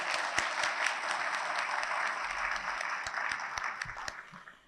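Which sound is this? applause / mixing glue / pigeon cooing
applause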